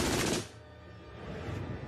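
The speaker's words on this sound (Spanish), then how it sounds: "La MG-42 era tan rápida que no se podían escuchar los disparos por separado." A German MG-42 machine gun fires a fast, tearing burst so rapid the shots blur together, then cuts off abruptly, leaving a lingering low rumble and echo.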